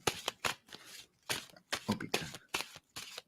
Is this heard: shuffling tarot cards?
yes